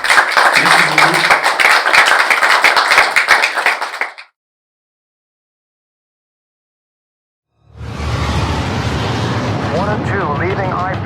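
A lecture-hall audience claps loudly and briskly for several seconds before the sound cuts to silence, then a different passage with voices and low rumble begins.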